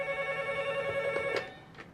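A telephone rings with a steady electronic tone, moderately loud and close, with a few faint bumps toward the end and no talking.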